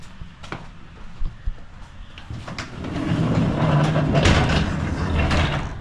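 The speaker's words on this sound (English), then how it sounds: "I can get the doors down." Garage doors pulled down in an old garage, a loud rumbling slide that builds from a few knocks and clatters into a sustained rolling roar over the last three seconds, heard up close.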